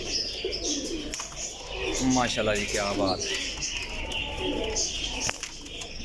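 Teddy, golden Lakha and cross-breed pigeons coo softly in a rolling, throaty rhythm nearby while someone speaks briefly over the birds and background chatter.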